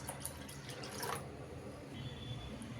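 Water poured from a tap or jug onto washed lentils in a bowl, a soft splashing trickle with drips, a brief louder gush near the middle, then quieter, close by.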